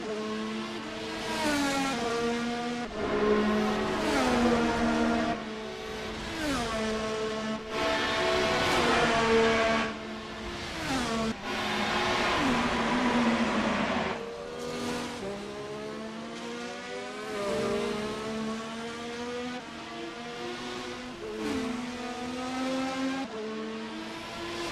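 Race car engines roaring and shifting on a Las Vegas circuit as a driver brakes hard into a corner and locks up, revs rising and falling in dense overlapping passes that stay loud and close throughout.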